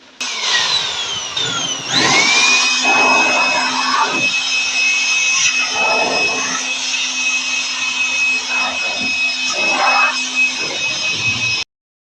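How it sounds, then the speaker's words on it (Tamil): An air blower roars as it blows dust out of a machine in a repair shop. It spins up with a rising whine, then holds a loud, steady, close rushing blast with a high tone for about ten seconds before cutting off. "இப்போ அந்த பக்கம் காற்றடிக்கிறேன் இவ்வளோ குப்பை வருதுன்னு பார்க்கலாம்"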